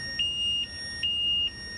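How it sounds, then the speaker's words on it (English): Two loud, high-pitched electronic beeps from a BattRE ONE electric scooter's anti-theft alarm, triggered by the wheel spinning, each lasting about half a second, evenly spaced with a short gap between. "If the wheel spins, there will alarm sound coming out"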